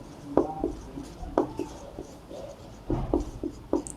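Pen scratching on paper while a maths solution is written out, a series of short close strokes in irregular bursts, fairly quiet with no speech.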